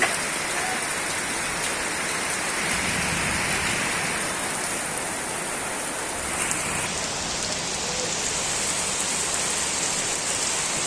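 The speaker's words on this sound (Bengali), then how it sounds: "আকাশ থেকে শিলাবৃষ্টি পড়তেছে" Hail pelts down hard and without pause during a spring storm in Dhaka, a dense, even clatter on surfaces all around.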